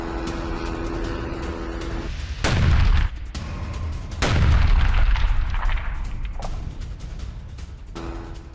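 Missile strikes hitting a Merkava tank in news footage, with two heavy booming blasts a couple of seconds apart over a steady rumbling background, loud and close.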